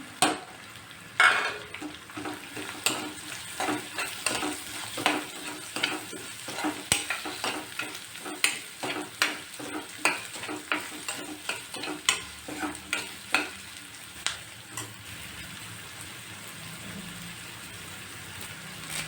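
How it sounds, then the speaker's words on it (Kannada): Finely chopped onion frying for green gram curry, a continuous close sizzle overlaid by a long run of rhythmic spatula scrapes and taps against the pan, with no voices. "ಈಗ ಒಂದು ಈರುಳ್ಳಿ ಸಣ್ಣ ಕಟ್ ಮಾಡಿರೋದು ಇದ್ದೀನಿ"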